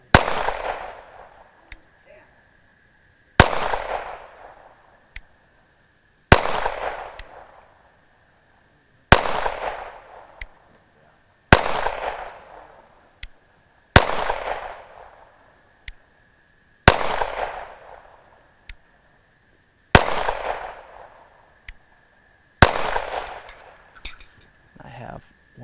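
Shots from an M&P 5.7 pistol ring out in sharp, loud cracks, about nine in a row spaced a few seconds apart, each trailing a short echoing decay, with a steady faint tone underneath.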